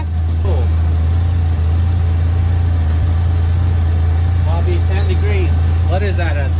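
A Toyota 4AGE 16v engine in an AE86 idles steadily after a DIY valve job, a loud, even low rumble throughout, with people talking over it.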